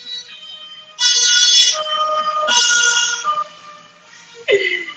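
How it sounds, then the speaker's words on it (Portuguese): An ambulance siren passes on a city street near a fire station, loud wailing tones rising and falling in bursts over several seconds, with a sharp horn-like blast near the end. "vai passar uma ambulância, vai fazer um barulhão"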